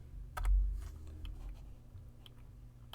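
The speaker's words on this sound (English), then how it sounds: "I'm going to type" Keys tapped on a computer keyboard: a handful of quiet, scattered clicks over a low background hum, with a soft thump near the start and no voices.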